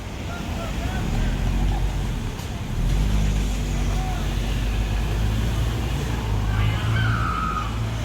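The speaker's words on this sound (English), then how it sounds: "And here's an Audi A7." An Audi A7 drives past on a downtown Naperville street, a loud broadband tire-and-engine rush that swells midway and stays steady, with outdoor wind noise around it.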